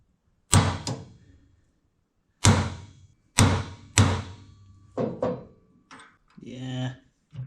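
Hard hammer blows strike a brake lining rivet clamped in a vise while lining a 1939 Caterpillar D4 band: four or five sharp, ringing metallic hits spaced a second or so apart, followed by quieter knocks and a brief voice.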